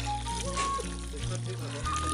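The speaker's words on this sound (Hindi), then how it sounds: "अब इसमें हम डालेंगे ग्रेवी के लिए पानी।" Water is poured into cooking fish curry masala for gravy, a close, full rushing pour under a steady background hum.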